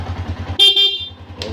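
A short, bright blast from a PIAA aftermarket horn on a Yamaha Sniper 150 MXi motorcycle cuts over the idling engine, followed by a brief second toot.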